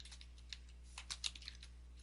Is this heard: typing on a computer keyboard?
yes